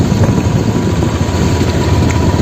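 A motorcycle engine idles close by on a riverside ride, giving a steady, loud, rumbling drone with no breaks.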